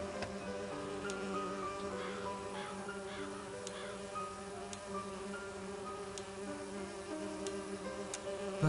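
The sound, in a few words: buzzing bees from Agatha Christie video game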